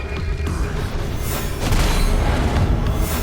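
Explosions in a video game: continuous rumbling blasts and dense low booms, loud and steady, growing heavier partway through with no talk.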